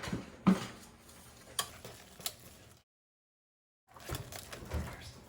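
Spoon stirring mashed potatoes in a pot, giving soft scraping and a few sharp taps, faint and close, with a short silent gap before the stirring resumes.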